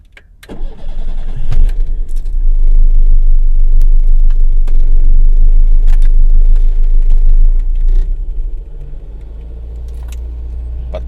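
An old VAZ 2109 hatchback engine cranks and catches, then settles into a loud, steady close-up idle rumble that drops to a quieter idle near the end, with no voices.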